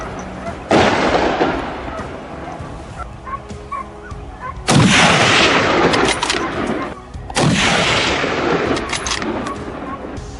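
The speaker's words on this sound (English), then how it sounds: "Gripping his rifle tightly and aiming precisely, Kevin swiftly pulled the trigger" A hunter's rifle fires at wild boars in dense underbrush, with three loud, sharp gunshot blasts, each trailing into a long ringing echo, close and dominant.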